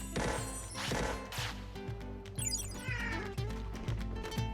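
Digimon creatures in the video game Digimon World: Next Order let out loud, cat-like meows and yowls, repeated several times over a steady game soundtrack, with no talking.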